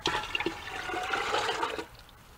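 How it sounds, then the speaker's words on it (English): A pitcher dipped into a rainwater barrel behind a house gives a short burst of splashing, gurgling water lasting about two seconds, fairly close, before it trails off. "I simply stick a pitcher down here, and then my rainwater is purified"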